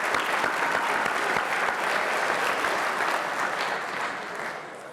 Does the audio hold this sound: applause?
yes